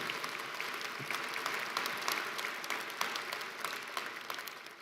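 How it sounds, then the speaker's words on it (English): Audience applause for teaching award recipients at a graduation ceremony, a steady wash of many hands clapping from a large crowd, sustained and even throughout with no speech. "if you want to applaud for them, they're great."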